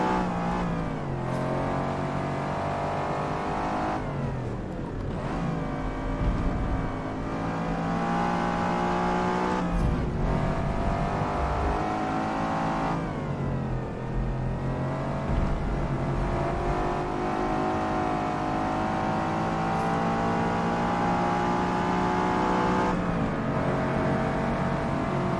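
A race car in Forza Motorsport under careful throttle, its engine revving up and easing off in repeated swells through gear changes, loud and continuous, with a faint tire squeal and no talk.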